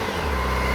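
A stock Kawasaki ZX4RR motorcycle with a fly-by-wire throttle idles or revs up close, a loud, steady engine drone that builds slightly over a short burst.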